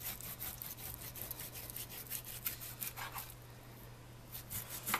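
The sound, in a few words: knife cutting pork loin into even slices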